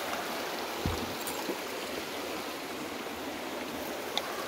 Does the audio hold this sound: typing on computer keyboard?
no